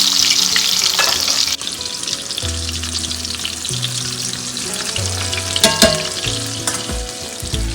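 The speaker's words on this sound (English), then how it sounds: "Now we let it fry, and then with your tongs very carefully flip it over." Chicken coated in rice flour fries in oil on a griddle for Indian fried chicken. A loud, steady close sizzle fills the whole clip, with a few scrapes and clinks from tongs as the pieces are turned.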